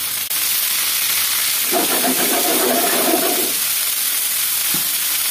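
Peppers being sautéed in a pan until brown and soft, a steady close sizzle and hiss with a brief stirring scrape in the middle, no talk.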